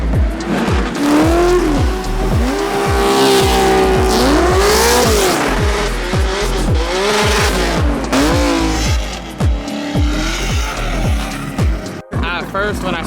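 Loud race car engines, including a Toyota Supra A90 at a drift event, rev and rise in pitch over and over, with tires squealing through a drift, a voice talking over the constant roar.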